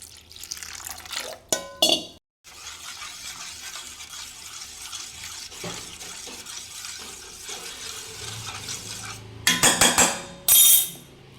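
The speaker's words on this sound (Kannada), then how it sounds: "ಈಗ ಇದಕ್ಕಿನ್ನೂ ಸ್ವಲ್ಪ ನೀರು ಹಾಕಿ" Water poured over barley as it is strained in a home kitchen, a steady rushing pour for several seconds, framed by sharp clinks of metal utensils and vessels at the start and end.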